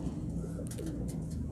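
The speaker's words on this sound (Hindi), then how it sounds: "ये आप देख सकते हो कि ये कबूतरी है" A female pigeon coos close by, a few soft throaty rolling calls over a steady low background hum.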